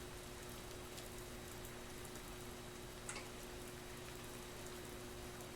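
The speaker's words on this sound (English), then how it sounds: "I should really add the rain sounds here too." A soft, steady hiss of rain sound effect, a rainy field behind a window, with faint scattered drop ticks, quiet and continuous throughout.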